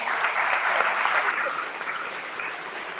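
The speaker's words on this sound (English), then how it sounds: "Please give a round of applause for all of our candidates." An audience at a mayoral candidate forum hosted by the Hamden African American Club breaks into dense, sustained applause that fills the room, then eases slightly toward the end.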